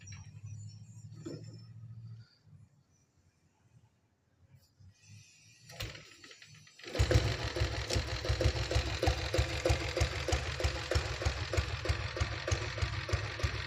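A Royal Enfield Bullet motorcycle shuts off, then after a brief quiet the single-cylinder engine cranks and fires into a loud, steady, thumping idle that runs close up to the end.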